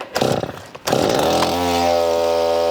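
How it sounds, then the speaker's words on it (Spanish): A Stihl chainsaw is started cold: a brief rough pull and sputter, then the engine catches and settles into a loud, steady high-pitched drone, close and without talk. "Y ahí es como se prende la motosierra en frío"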